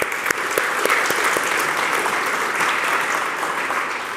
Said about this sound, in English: So if we could just give them a round of applause this morning.